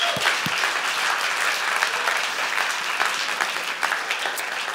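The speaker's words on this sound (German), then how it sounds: "Und das wäre ein Moment, wo wir unserem Jesus mal einen riesen krassen Applaus geben könnten." Church congregation giving loud, sustained applause, a dense continuous roar of many hands with occasional sharper claps and faint cheers, no talking over it.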